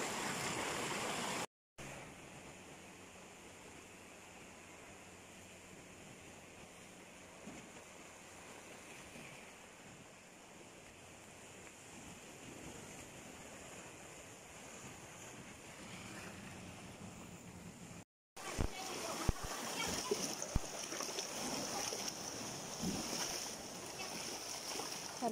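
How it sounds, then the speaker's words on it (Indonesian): Big ocean waves surging along the rocky coast of Tung Lung Chau, a steady broad roar with wind buffeting the microphone, swelling louder and rougher toward the end. "Karena ombak terlalu gede, kita nggak bisa nyebrang"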